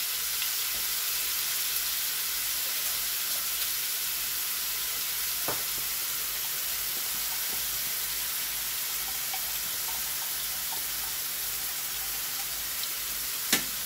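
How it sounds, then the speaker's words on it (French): Onions with whole cumin seeds frying in a pan give off a steady, even sizzle close by, with a few faint clinks and a sharp tap near the end and no talking. "Je vais ajouter ces oignons au cumin en grains. Et là, je vais laisser cuire mes oignons un petit peu."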